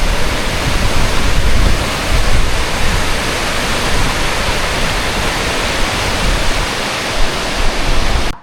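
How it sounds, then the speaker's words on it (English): American River rushing steadily past, a loud, dense and continuous broadband roar of flowing water, close and unbroken, with no talking. "So this is the American River for all you Americans."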